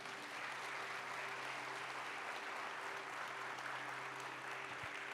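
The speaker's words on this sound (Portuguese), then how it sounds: "Pode aplaudir o Senhor." A church congregation claps together, a steady, fairly faint wash of applause that carries on evenly without pause and with no voices over it.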